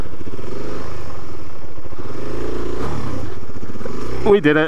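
A Suzuki DRZ400 dirt bike engine growls and revs close by during a wheelie attempt, with rattling clatter throughout. A voice speaks over it near the end.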